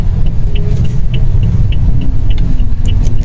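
A car driving through city traffic toward a bridge, its steady engine and road rumble loud and continuous with faint higher tones drifting above, no talking.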